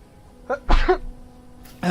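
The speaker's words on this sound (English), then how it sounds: "I'm about to sneeze." A single sharp sneeze bursts out during live commentary on a VR esports match, preceded by a short intake of breath, close to the microphone and loud.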